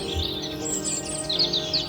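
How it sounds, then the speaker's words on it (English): Linnets calling while feeding on sunflowers: a steady chatter of high twittering calls, several birds at once, fairly close and continuous throughout. "By far the noisiest of the birds were these linnets."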